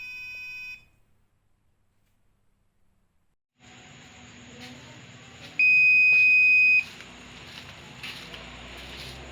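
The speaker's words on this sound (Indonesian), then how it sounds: "Bila ada gerakan terdeteksi, buzzer dan LED-nya akan menyala." A buzzer on a PIR motion-sensor security system, built as an embedded-systems project, gives one steady, piercing beep of about a second over a faint background hum.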